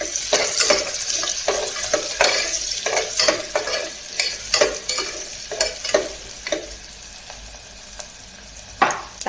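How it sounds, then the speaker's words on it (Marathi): Chopped onion frying and sizzling in hot oil in a pan for Malvani chicken curry, with steady close stirring and scraping strokes repeating irregularly over the sizzle; no talking. "तांबूस रंग होईपर्यंत आपण चांगला कांदा भाजून घेऊया."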